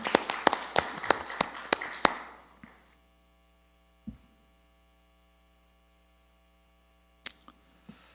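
Applause from a church congregation during a Sunday service: a short burst of sharp, rhythmic claps for about two seconds that fades out, followed by near silence over a low mains hum with a few isolated taps.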